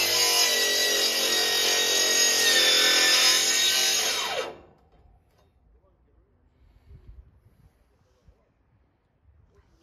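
Power saw running with a newly fitted blade, a loud steady high-pitched whine that spins down and stops after about four seconds, followed by quiet shop movement.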